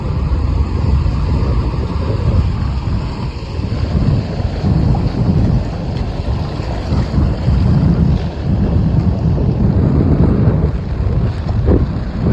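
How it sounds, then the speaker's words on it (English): Strong wind buffeting the microphone in a constant low roar, with faint surf washing in the background and no voices. "It's a bit windy today."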